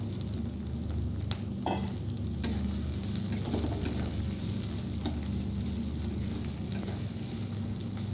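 Onion frying in hot oil for a vegetable curry, a steady close sizzle with occasional clicks and light stirring taps over a constant low hum.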